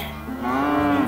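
A single cow moos on a farm, one drawn-out, close call rising then falling over about a second, alone and clear.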